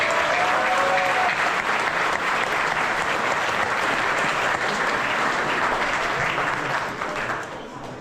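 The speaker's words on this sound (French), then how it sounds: "Je vous propose de les applaudir." An audience at a community gathering gives a sustained round of loud applause, dense clapping filling the room and tapering slightly at the end.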